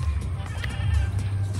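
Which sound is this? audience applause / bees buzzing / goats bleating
goats bleating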